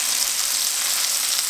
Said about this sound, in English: turn the heat up just to about medium-high, and we're going to cook off these beautiful little grouse breasts here